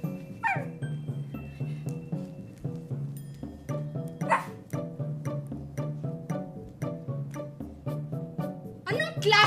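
A bully dog barks in an animated story, a rapid run of close, loud yapping barks and yips in an uneven rhythm, mixed with voices and whimpering sounds.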